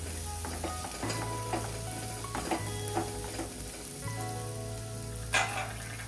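Bitter gourd and onion curry with red chilli and a little sugar cooking in a pan, giving a continuous close sizzle broken by repeated scraping and clattering strokes of a stirring spoon, with no voices.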